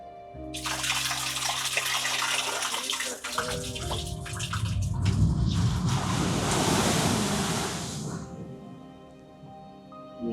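Sea waves surge and crash onto the eroding shore at Kannamaly on the Kerala coast during sea incursion, a loud rushing wash that builds, peaks and recedes over several seconds, heard close.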